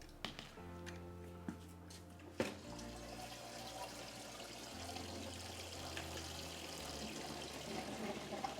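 Water drains and trickles out of a container of pre-germinated grass seed, with a steady close splashing flow following a few faint knocks and drips.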